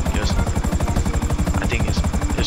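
A helicopter in the video game GTA 5 Online thrums loudly and steadily, its rotor giving a rapid, even chop over a constant engine buzz, with a voice speaking over it.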